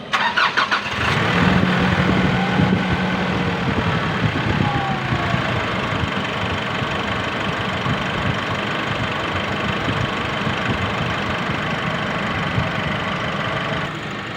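A 2017 Nissan Navara diesel with a low-power turbo fault cranks and fires up, then settles into a loud, steady, slightly knocking idle heard up close for the rest of the clip.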